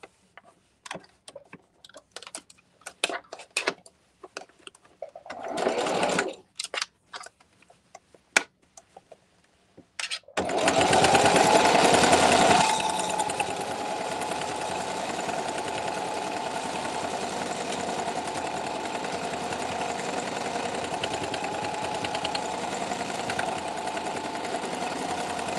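Electric sewing machine stitching thick fabric scrunchies: sparse clicks and short bursts give way to a loud, steady motor whir that settles into a continuous, even hum close by.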